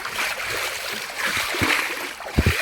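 On a fishing boat, water is splashed over freshly caught fish, giving close, irregular splashes and slaps against a steady wash of flowing water, with a couple of sharper splashes near the end.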